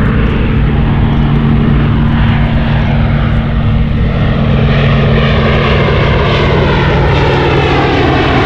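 A Fairey Swordfish biplane flies at an air show, its propeller engine droning loud and close with a steady, rough roar throughout, slowly shifting in tone as it passes.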